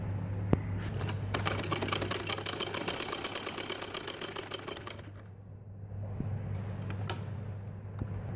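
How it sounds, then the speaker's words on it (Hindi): A sewing machine stitches a kurta seam in a fast, even run of needle strokes that stops midway, then resumes faintly with a few isolated clicks, close and alone with a low steady hum beneath. "यहाँ से सिलाई करते हुए मैं नीचे तक चली जाऊँ"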